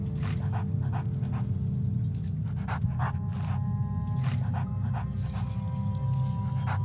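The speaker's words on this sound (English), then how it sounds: "This dog is going crazy over here." A dog pants rapidly and excitedly close by, with repeated short breathy bursts over a steady low background hum; no clear barks stand out.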